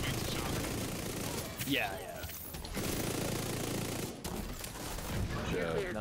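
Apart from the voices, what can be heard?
gunfire from the video game The Division 2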